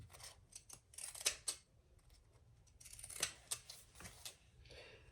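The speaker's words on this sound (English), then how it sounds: "I am going to use my pinking shears to trim my corners" Pinking shears snip around the corners of a fabric clutch, giving a series of close, crisp metallic cuts in irregular bursts with short pauses between them. No one speaks.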